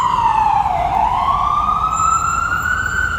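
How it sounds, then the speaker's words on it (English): Ambulance siren passing outside, a loud continuous wail that dips and then rises steadily, heard alone with no talking. "here goes the ambulance there"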